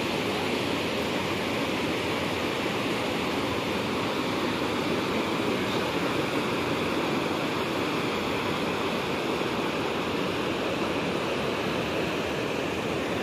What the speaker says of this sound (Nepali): ब्यास नदी होइन, ब्यास नदी जस्तो लाग्छ।